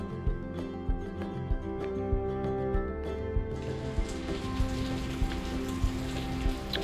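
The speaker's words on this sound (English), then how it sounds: "The rain kept on coming" Rain patters steadily on a nearby surface, with heavier drips landing at a regular rhythm over a constant low hum.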